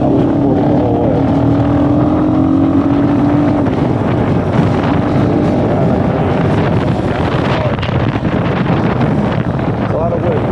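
Heavy wind buffets the microphone in a constant loud roar with low rumbling gusts, with no break and no clear voice on top.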